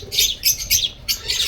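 Budgerigar chicks in a nest give four quick bursts of shrill, raspy chirping in rapid succession, close and fairly loud with short gaps between the bursts.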